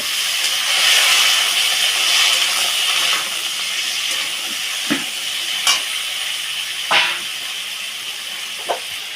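Potatoes, plantain, tomato and green chili frying in a pan, giving a steady close hiss and sizzle that fades slightly, broken by a few faint clinks and knocks, with no talking.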